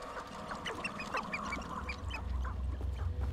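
Chickens in the video game Hogwarts Legacy make a string of short, repeated clucking calls, moderately close, over a low steady background hum that grows a little heavier toward the end.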